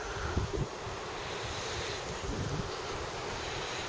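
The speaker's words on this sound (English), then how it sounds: "It's a nice day, but it's really windy." Strong wind roars steadily across the microphone, mixed with the broad wash of surf at a beach, loud and continuous with gusty buffeting.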